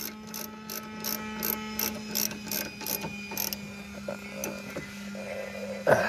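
Ratchet wrench turning a bolt on the rear brakes of a 2015 Chevy Equinox, a fast run of sharp ratcheting clicks in quick bursts for the first few seconds, then sparser clicks over a steady low hum.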